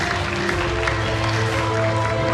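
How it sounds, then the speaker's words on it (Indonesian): A large audience at a Papua gubernatorial public debate applauds the panelists, a steady wash of clapping over a constant hall hum and tonal background, even and unbroken throughout. "Boleh kita berikan tepuk tangan sekali lagi kepada seluruh panelis kita."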